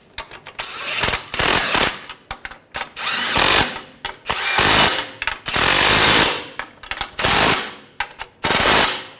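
An impact-style power tool rattles in repeated loud bursts while tightening the front strut assembly nuts on a 2009-2017 Volkswagen Tiguan, close by, with short pauses between runs.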